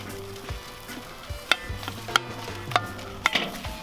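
Ground meat for sloppy joes sizzling in a pan, a soft steady frying hiss with several sharp metallic taps and scrapes from a utensil, close by with no talking.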